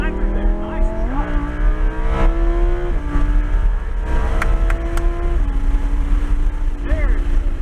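A Lamborghini on a race track sends its engine droning loud and steady, pitch stepping up through gear changes as it accelerates out of a corner, with faint talk underneath.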